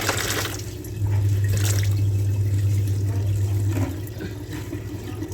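Wet dupatta cloths are lifted out of a tub of water at home, with water splashing and dripping steadily over a low, constant hum.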